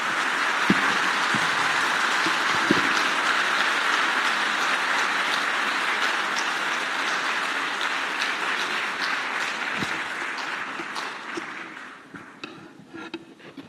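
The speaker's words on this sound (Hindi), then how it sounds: "आप सबकी जोरदार तालियों के साथ।" Audience applause at an official event on India's telecommunications progress, heard as a dense, sustained wash of many hands clapping that holds steady for most of the stretch and then thins and fades near the end.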